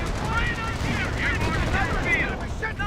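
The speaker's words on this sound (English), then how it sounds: "Looks like a Calliope rocket barrage right there." A Calliope rocket barrage in Company of Heroes pounds continuously, a dense rolling stream of rapid launches and blasts with whistling streaks overhead, loud and unbroken throughout.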